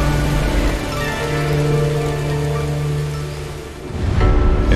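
Steady rain falls in a video game scene, a dense even hiss with a low rumble beneath, swelling slightly louder near the end, with no voices.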